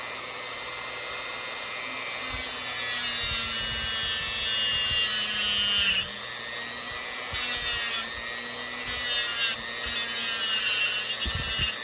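A motor-driven buffing wheel polishing a piece of jewelry, a steady close whirring drone with shifting friction whines and brief scraping contacts as the piece is pressed to the wheel.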